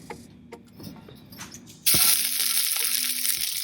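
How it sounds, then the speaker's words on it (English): Vegetable oil heats in a hot wok over medium-high flame, the start of a Thai red curry. A few quiet clicks come first, then a sudden loud, steady sizzle takes over near the two-second mark and holds to the end. "I heat up a wok, medium high, add in a little bit of vegetable oil"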